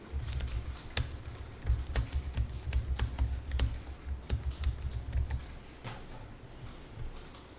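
Someone types an address on a computer keyboard during accounting software data entry, producing quiet, rapid, irregular key clicks in steady bursts for several seconds before trailing off, with no talking.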